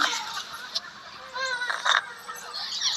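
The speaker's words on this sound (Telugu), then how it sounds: "పక్షులు యొక్క కిలకిలలు వింటాయనే, పక్షుల యొక్క సౌండ్లు" Scattered bird calls and chirps, a few short whistled notes and harsher squawks, moderately near over a soft outdoor background.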